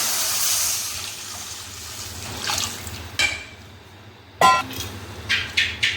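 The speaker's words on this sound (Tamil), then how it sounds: "இப்போ நம்ம தண்ணி ஊற்றலாம்." Water pours and splashes into a pan of sautéed onions for rava upma at close range, with hissing bursts and a few sharp splashes toward the end.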